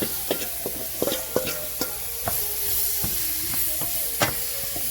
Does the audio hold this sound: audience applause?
no